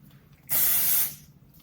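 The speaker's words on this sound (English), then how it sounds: "This is a Magical Mist Shine Spray." A single short burst of hair shine mist spray hisses for about half a second, close by, against a quiet background.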